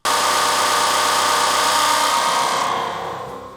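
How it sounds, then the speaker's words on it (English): Meat grinder in the Super Life RPG video game, a steady loud mechanical whirring grind with a bright buzzing tone that holds evenly for about three seconds before slowly winding down. "some of the dinosaurs require meat, which could only be gotten from the grinder, and it made a beautiful noise"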